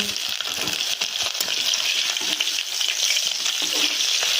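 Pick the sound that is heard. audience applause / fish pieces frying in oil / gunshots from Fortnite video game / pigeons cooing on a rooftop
fish pieces frying in oil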